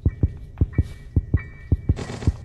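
A heartbeat sound in the Granny horror video game thumps in a steady, quick double-beat rhythm, deep and close, with a faint hum and some hiss behind it, and no talking.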